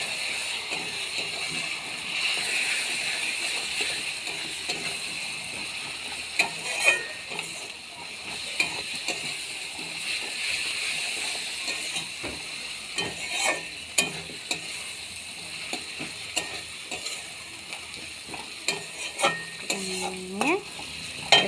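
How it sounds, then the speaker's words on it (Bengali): Spice paste of chilli powder, ginger-garlic paste and cumin paste frying in a pan for banana-flower muri ghonto, a continuous sizzle broken by frequent scraping strokes of a spatula, with a squeaky scrape near the end. "ভালো করে এটা নেড়ে নেব"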